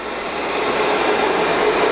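An air-powered explosion-proof venturi vacuum, a Ruwac FRV100 fitted with a one-and-a-half-inch hose, runs steadily while picking up fine bentonite powder, giving a continuous, fairly loud broadband hiss and whoosh with no talking.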